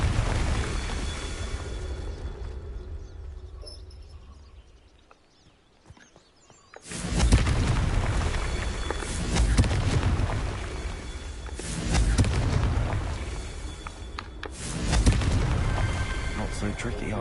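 Blast spells cast in a wizard video game burst into a series of loud, booming explosions after a quieter stretch, with roughly three or four heavy impacts rolling out over several seconds.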